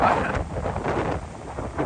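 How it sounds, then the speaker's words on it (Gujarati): Strong wind buffets the microphone in a continuous low roar, gusting slightly louder at moments, with no clear voices. "એ પવન જ એટલો હે"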